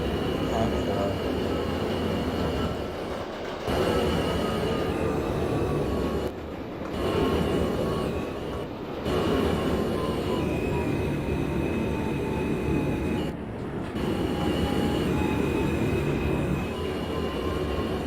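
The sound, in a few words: NYC Subway R160 train running, OpenBVE train simulator game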